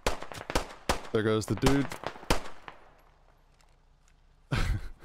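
Gunfire rings out in a squad-based military video game: a quick volley of sharp shots, a lull with a brief spoken line, then a renewed burst near the end.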